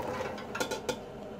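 Carrots tumble into a stew pot of spiced meat for a Lebanese peas and carrots stew, giving two brief clattering knocks against the pot over a low kitchen background.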